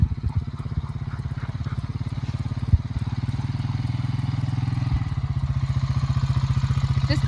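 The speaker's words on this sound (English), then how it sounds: "Ashley and I are riding the four-wheeler" A four-wheeler engine runs steadily at close range, a low throbbing drone with a regular pulsing beat, and one sharp clack breaks in partway through.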